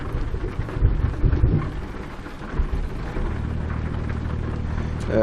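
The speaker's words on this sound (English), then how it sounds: "All this rain." Rain and rumbling thunder in American Truck Simulator at night, heavy low rumbles early giving way to a steady wash of rain and a truck's engine drone.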